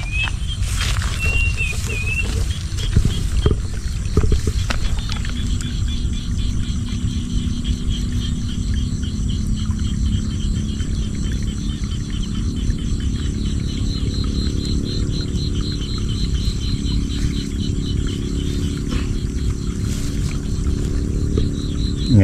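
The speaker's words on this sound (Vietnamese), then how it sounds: "Nghe cái lượng nước chảy xuống mát ha" Water pours steadily down from a rice paddy in a flowing stream, a continuous close rushing wash with insects chirping faintly above it and a brief voice at the start.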